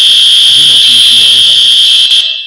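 A fire alarm in the Roblox video game sounds a loud, continuous high electronic tone that cuts off near the end, with a faint voice underneath.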